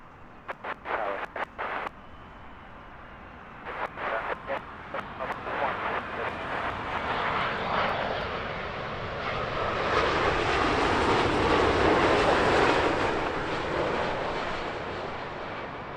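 A British Airways Airbus A320-200 jet, inbound from Prague, landing at Heathrow: broadband jet roar swells steadily from the middle of the clip and peaks near the end, after a start broken by short bursts of radio chatter.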